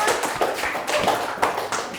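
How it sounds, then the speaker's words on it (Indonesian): A classroom claps for group 1 after their turn, a loose patter of several pairs of hands, moderately close and uneven, with students' voices murmuring underneath. "Tepuk tangan buat kelompok 1"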